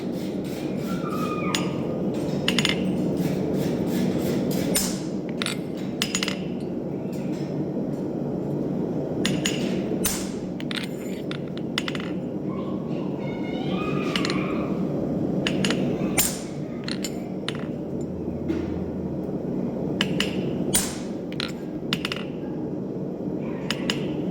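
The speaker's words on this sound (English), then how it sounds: "I like to punch my nail holes at like a dull red heat" A hammer strikes a punch through a horseshoe heated to a dull red, forging nail holes; sharp metallic clinks ring out in quick irregular bursts over a constant roaring forge background.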